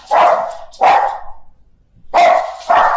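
Dogs bark loudly and close by in four sharp bursts, with a short pause between the second and third.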